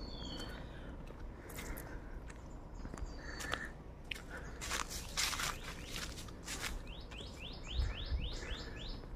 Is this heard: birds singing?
yes